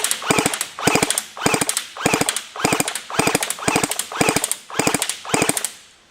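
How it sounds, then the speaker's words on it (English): Airsoft gun firing heard from inside an M59 airsoft field build vehicle, a regular series of short rapid bursts of about three or four shots each, evenly spaced, sharp and close, with no talking. "Let's get to the shooting test, see how it sounds inside."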